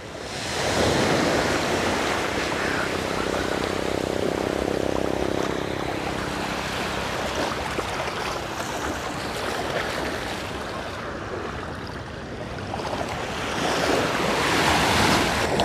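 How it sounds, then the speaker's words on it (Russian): Gentle sea waves wash onto a beach in Phuket, Thailand, as a loud, steady surf roar mixed with wind rush that swells and eases over the whole stretch, with no voices. "какие мягкие волны."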